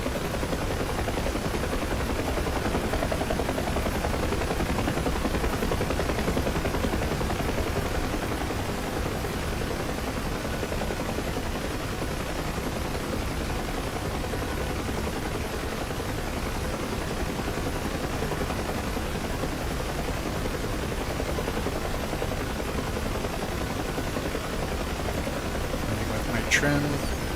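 A constant whirring UH-1 Huey helicopter drone with rotor chop in a flight simulator game, steady and unchanging throughout, with a faint click near the end.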